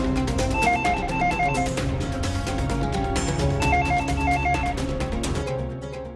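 A telephone rings loud and close in a home scene from an Indian TV drama, two bursts of rapid electronic trilling separated by a short gap, then fading out, with no one speaking.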